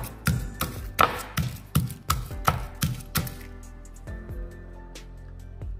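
Garlic, cumin seeds and red chillies are pounded coarsely for tomato pachadi, giving a series of about eight sharp, close thuds in an uneven rhythm before things go quiet.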